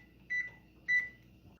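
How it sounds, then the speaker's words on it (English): A kitchen timer gives two short, clear beeps about half a second apart over a quiet room, with no talk. "That's our timer."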